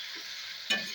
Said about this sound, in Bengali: সামান্য একটু জল দিয়ে এইভাবে টমেটো দিয়ে ভালো করে কষিয়ে নিয়ে